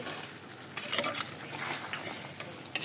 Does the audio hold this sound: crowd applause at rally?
no